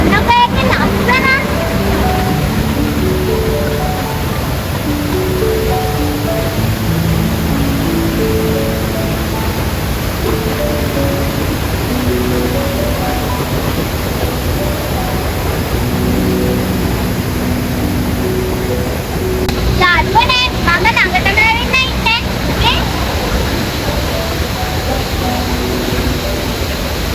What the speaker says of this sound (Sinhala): යාළුවනේ අද වතුර පාර නම් ගොඩක් තරයි